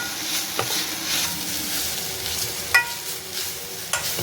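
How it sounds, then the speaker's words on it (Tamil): Grated coconut being dry-roasted in a pan and stirred with a spatula, a steady soft sizzling hiss with a couple of sharp scraping clicks against the pan, close and alone. "தேங்காய் நல்லா பிரிபிரியாக வர அளவு வறுத்து எடுத்துக்கோங்க"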